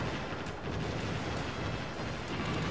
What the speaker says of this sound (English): I just fired 4 cruise missiles.